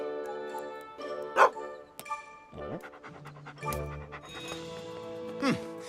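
A cartoon dog pants in quick breathy bursts between barks and yips, mixed with background music and voices talking over it.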